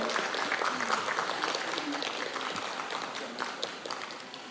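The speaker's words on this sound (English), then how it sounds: "A clap for that as well." Studio applause during a breakfast television check presentation from a ministry, a continuous wash of clapping with faint voices in the background.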